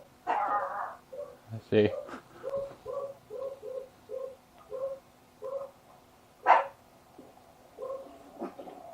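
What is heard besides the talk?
dog barking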